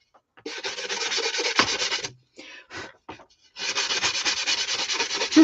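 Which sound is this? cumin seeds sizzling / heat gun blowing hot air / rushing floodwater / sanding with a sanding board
sanding with a sanding board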